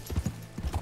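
Horse hooves clip-clopping in the game Red Dead Redemption 2, a quick even run of soft, faint hoofbeats in a brief burst.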